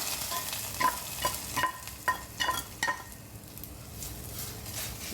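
Hot garlic and dried chilli tempering hits jute greens cooked with masoor dal, giving a brief burst of sizzling with a quick run of clicks and scrapes from stirring, then settling into a quieter hiss.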